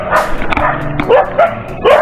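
A dog met along a roadside stop on a motorcycle ride near Kaybiang Tunnel gives several quick, close barks and yips in an uneven burst, loud and near.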